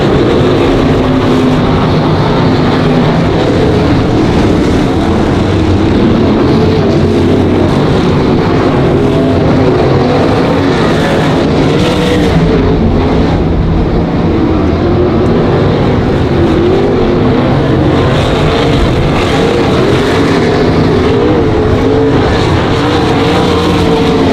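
Sprint cars roar through the A main feature at Monarch Motor Speedway, a dense, loud, unbroken wall of racing engine noise with layered snarling motors that swell and fade slightly as the pack circles the track.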